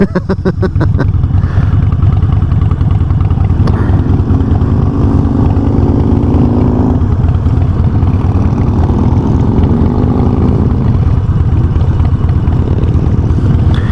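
A Harley-Davidson Sportster 1200C idles at a traffic light on a cool fall morning ride in Ohio, its loud steady low rumble continuing throughout with a slight rise and fall in pitch, with no talking.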